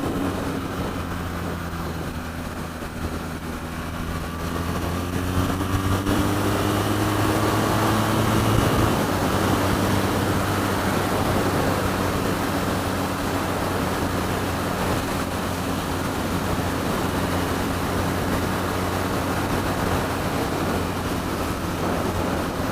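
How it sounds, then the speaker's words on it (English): Steady, loud roar of wind buffeting a rider with no fairing on a BMW R9T motorcycle at speed, with the engine drone underneath, constant throughout. "So we've got no fairing holding back the wind, so I'm taking it full frontal in the face."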